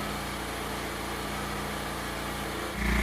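Small Honda portable generator engine starting up, a low steady mechanical drone that abruptly rises into a louder, busier engine roar in the final half second.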